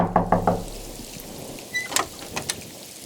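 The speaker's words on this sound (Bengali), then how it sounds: "বাইরে খুব জোরে বৃষ্টি পড়ছে।" Cartoon storm effect: a hiss of heavy rain with a few dull rumbling thumps and sharper cracks, fairly quiet and brief, no voices.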